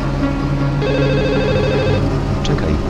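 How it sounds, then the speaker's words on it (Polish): A telephone rings with a bright electronic trill for about a second, heard over a busy low background murmur. "Czekaj, muszę odebrać telefon."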